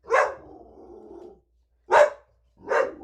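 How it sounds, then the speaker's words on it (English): A dog barks three times up close and alone. The first bark trails into a low, drawn-out rumble, and two short, sharp barks follow after a pause. "There's a new dog where I live that is driving her crazy lately."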